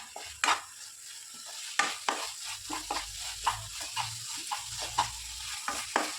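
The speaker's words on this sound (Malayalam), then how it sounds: "ഇനി നല്ലതുപോലെ ഒന്ന് മിക്സാക്കി കൊടുക്കാം." Fenugreek powder is stirred into hot oil for a mango pickle, with a spoon scraping the pan in repeated strokes over a soft, steady sizzle.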